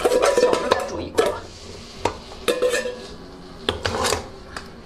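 Metal pots and pans clank and scrape while fresh-caught seafood is readied for boiling in a kitchen, a series of sharp, close knocks and rattles spaced irregularly, with no talk.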